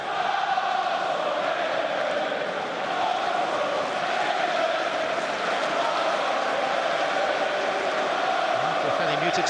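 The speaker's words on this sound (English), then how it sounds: "the crowd have found their voice" Arsenal football crowd at an FA Cup quarter-final against Hull City, a steady, dense roar of voices filling the whole stretch, with a commentator talking over it.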